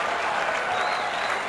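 Cricket crowd after a West Indies one-day win over Australia, loud, dense applause and cheering filling the whole moment without a break.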